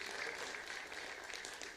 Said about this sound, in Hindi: जोरदार तालियों से आप इनका स्वागत करें।